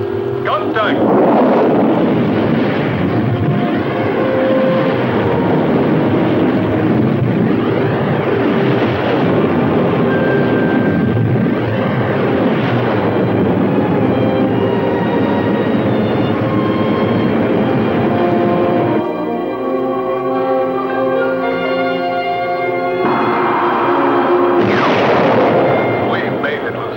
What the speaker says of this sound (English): We've made it, Lucy. Engines at maximum speed.